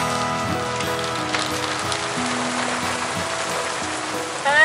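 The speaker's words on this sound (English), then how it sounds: "First rain in months." Steady rain patters on a sailboat, a dense, even hiss of drops striking the deck and surfaces, close and continuous with no talking.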